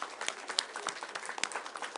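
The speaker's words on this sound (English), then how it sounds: "we all need to give Sarah a round of applause" A small room of colleagues at a department agenda meeting breaks into a round of applause for Sarah, with uneven, scattered claps at moderate volume.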